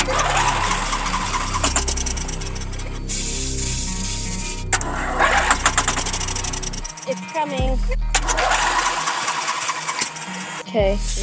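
Gas-powered lawn mower engine cranking and sputtering through several start attempts outdoors on overgrown land, loud and close, with pauses between pulls and people talking.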